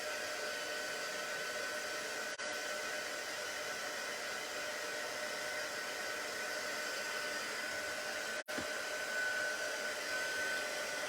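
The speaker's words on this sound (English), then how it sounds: "Let's see if my heat tool works." A heat tool for stamping crafts blows hot air in a steady, close whooshing roar that holds constant for the whole stretch, with one brief dropout near the end.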